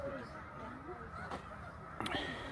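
Snow geese on migration at Middle Creek Wildlife Refuge, with a large flock honking and calling in a continuous distant chorus, layered with a few nearer honks and a sharp burst near the end.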